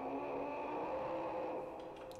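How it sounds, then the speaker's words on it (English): A steady engine drone with a sustained whirring tone runs loud and unbroken, easing slightly near the end, like a motorbike held at high revs with no talk over it. "Sounds like a motorbike"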